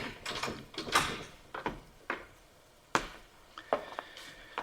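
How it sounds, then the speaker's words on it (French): Indoors, a door shuts and a key turns in the lock, heard as a series of soft knocks, clunks and metallic clicks, quiet and close. "que je referme cette porte à clé"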